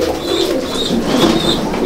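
Fancy pigeons in a loft in Howrah coo close by in a soft, repeated rhythm, with about three low coos over a faint background hum.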